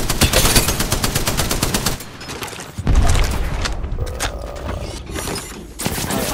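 The Spitfire machine gun fires in a video game as long rapid bursts of loud, close automatic shots, breaking off briefly and then starting again, with other mechanical game sounds in the gaps.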